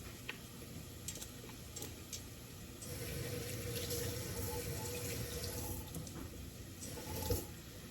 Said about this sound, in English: you can also rinse them out to get rid of the rest of the seeds